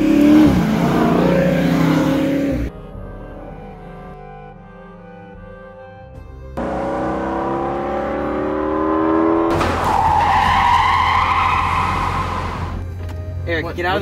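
A car engine revs hard and accelerates during a chase, its rising whine climbing in pitch in loud surges with a quieter lull between them, while people talk and shout over it.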